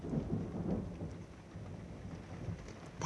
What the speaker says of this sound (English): That never heard thunder like that before.